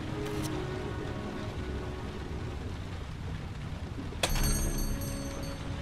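Steady rain falls in a Heavy Rain game scene as a constant, even wash of patter. A brief bright chime sounds near the end, and no one speaks.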